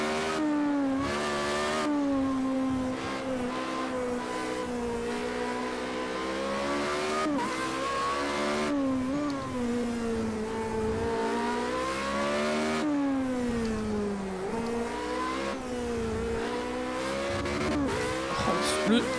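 Race car engines in Project CARS 2 rev and shift repeatedly in a career race, pitch climbing and dropping through the gears, with tyre squeal and the car struggling with constant understeer; loud and continuous throughout.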